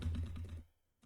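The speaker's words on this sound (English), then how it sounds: "I need to hit the keyboard a lot" Computer keyboard keys struck rapidly during a browser-based Zelda-style JavaScript game, a dense close run of clicks for about half a second, then quiet before one more brief tap.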